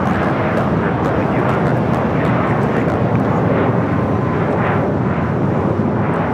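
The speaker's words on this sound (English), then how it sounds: "It's a Gulfstream G650 ER." A Gulfstream G650ER business jet roars loud and steady at a busy Los Angeles airport, a continuous broadband engine rush filling the whole stretch with slight swells.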